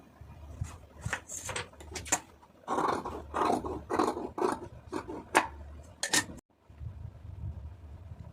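Scissors cut through folded blouse lining fabric in a series of close, crisp snips and rustles, uneven in rhythm, with a short pause before a final few quieter cuts.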